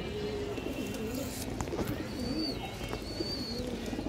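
White Army pigeons coo softly at a breeding loft, low rolling coos repeating under steady background noise, with a couple of thin higher chirps partway through.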